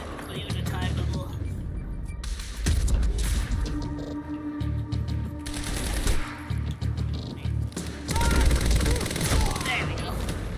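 Rapid SMG bursts in Quantum Break, loud, dense and layered with crashing impacts and booms, the firing coming in several sustained volleys across the scene with game ambience and a voice underneath.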